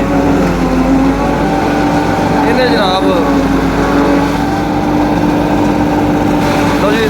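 A tractor engine runs steadily on a farm where the tractor is used to trample silage. It makes a continuous low rumble throughout, with a person talking over it.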